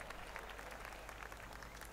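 Steady crowd applause fills the whole stretch in the golf video game The Golf Club 2019 at the St Andrews Old Course, an even, dense clapping texture that stays loud throughout with no voices on top.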